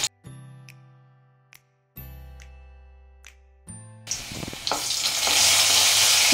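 Chopped garlic and ginger hit hot oil with a few metallic clinks and taps first, then a loud, steady sizzle builds and fills the rest, no voices.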